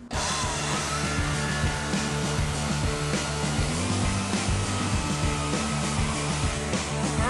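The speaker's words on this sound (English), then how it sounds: "Chainsaw time." A chainsaw cutting into a block of ice at an ice-carving event in Chicago, its engine roaring loud and continuous nearby for the whole stretch, with no voices over it.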